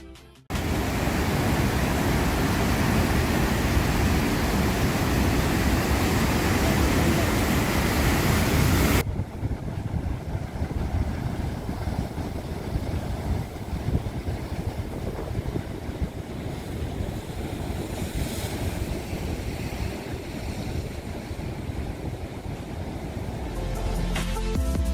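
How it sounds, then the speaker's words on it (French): Atlantic rollers crash steadily onto a rocky volcanic coastline, a loud, dense roar of surf with wind buffeting the microphone, heavier at first and then settling into a continuous rushing wash. "le spectacle du déferlement des rouleaux de l'océan qui se brise sur la côte rocheuse"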